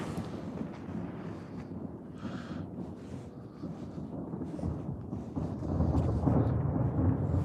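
Distant New Year fireworks rumbling like thunder, a continuous low, rolling boom that swells louder toward the end with no voices over it.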